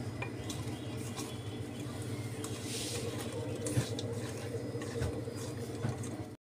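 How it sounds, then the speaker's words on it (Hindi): Potato fries tossed with salt and turmeric in a bowl, giving a steady soft scraping and clinking of mixing under a constant low hum, with a few sharper knocks near the end. "अब इसको हम मिक्स कर लेते हैं अच्छी तरह से"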